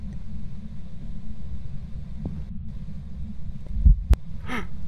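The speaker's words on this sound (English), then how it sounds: "I heard a fucking heartbeat for a split second." A ghost's heartbeat from the horror game Phasmophobia, heard on the Brownstone High School map, throbs as a low, steady pulse under a droning hum, with a couple of sharper thuds near the end.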